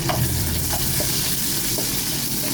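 Ginger and garlic sauté in hot oil for a goat adobo, giving a steady close sizzle with a few light stirring clicks and no voices.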